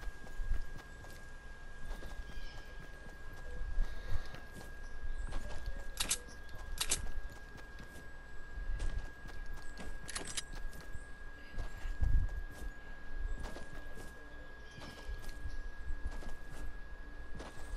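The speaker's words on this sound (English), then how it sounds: "There's a llama or something laughing in there." A llama in the Fortnite video game gives off horse-like clopping and snorting noises, mixed with a steady in-game hum and scattered sharp thuds and footsteps that come and go throughout.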